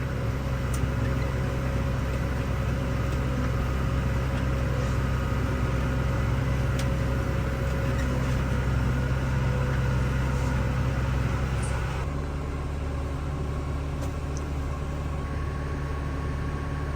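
A tractor raking hay on a farm at low RPM, a steady continuous engine drone with a constant low hum, fairly loud and unchanging throughout.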